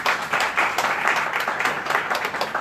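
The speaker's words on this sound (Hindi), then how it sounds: "ताली बजा के उनका धन्यवाद करते हैं।" Hands clap together in thanks at an open-air prayer meeting held on a road, with dense, steady applause from a gathered crowd running throughout and no talk over it.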